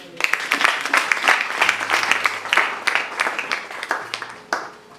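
A church congregation claps together in a dense, uneven burst of applause that fills the space and gradually thins toward the end, with a few scattered voices mixed in.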